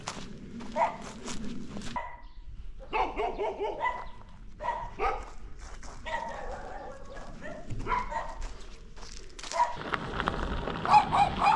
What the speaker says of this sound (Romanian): Și câinii fioroși.